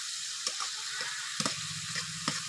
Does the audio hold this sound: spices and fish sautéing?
yes